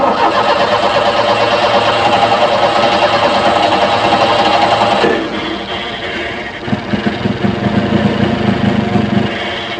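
A fuel-injected car engine runs rough with its temperature sensor disconnected, a loud steady mechanical drone that drops to a lower, uneven idle partway through, with no talk.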